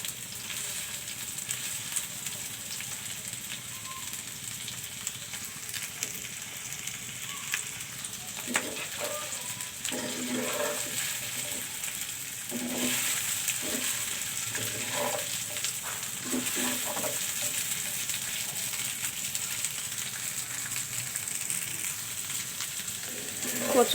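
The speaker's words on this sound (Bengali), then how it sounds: "কচুলতিগুলো তেলে ভেজে নিচ্ছি।" Taro stolons frying in oil in a pan, a steady soft sizzle running throughout, with a cluster of scraping and clinking stirs partway through and the frying growing slightly louder toward the end.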